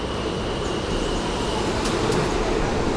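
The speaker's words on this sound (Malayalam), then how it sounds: "ഇവിടെ ട്രെയിൻ വന്നല്ലോ" A New York subway train rumbles steadily into a station, a continuous loud low roar with faint squealing near the end, alone without talk.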